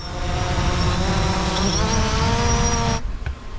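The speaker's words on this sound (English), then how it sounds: "That's the old tractor" An old tractor, kept for eight years, runs with a loud, close, steady engine rumble that cuts off abruptly near the end, leaving a few faint knocks.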